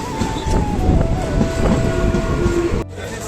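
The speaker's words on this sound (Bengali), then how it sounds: "দেখতে পাচ্ছ এখন ট্রেনটা এসে গিয়েছে, ট্রেনে উঠবো" A train pulls into a station platform at Maslandapur, its loud rumble filling the scene with a steady horn-like tone running through, until the noise drops abruptly near the end.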